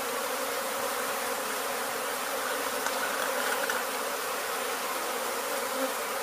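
A swarm of honey bees being removed in Weslaco, Texas gives off a dense, continuous buzzing drone. It is loud and close, with no pauses.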